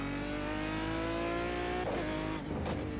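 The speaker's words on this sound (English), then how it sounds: "But just listen to this Aston Martin." An Aston Martin race car in iRacing at the Jerez circuit, its engine holding a loud, sustained high-revving drone with rich harmonics, then briefly dropping and rising again through quick gear changes near the end.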